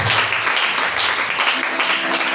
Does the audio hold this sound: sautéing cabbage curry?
no